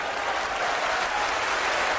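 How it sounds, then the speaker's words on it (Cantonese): Spectators clap together at a 2017 snooker final between Ronnie O'Sullivan and Neil Robertson, a brief, steady burst of crowd applause heard somewhat distant and without speech over it. "拍手掌就唔係話因為羅拔臣打得拍手掌嘅"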